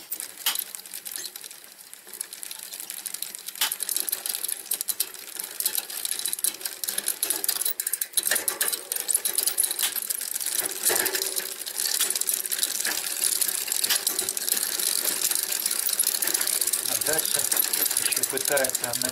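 A bicycle rear derailleur shifts across the gears while the cranks turn, giving a steady stream of small metallic ticks, clicks and chain rattles close by, with a voice talking intermittently over the mechanism.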